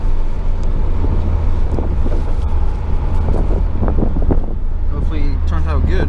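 A 2014 Mitsubishi Evolution X drives on a cloudy day with a loud, steady low rumble and road and wind noise, while someone talks over it.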